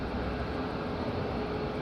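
A Ryanair airplane taxis at Madeira Island Airport, its engines a steady, moderately loud broadband roar that holds constant throughout the short stretch.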